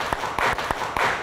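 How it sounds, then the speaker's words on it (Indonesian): Classroom students clap in unison on the teacher's prompt, with about five sharp, evenly spaced claps ringing close and loud over a second or so. "Siapa yang ingin sukses, tepuk tangan"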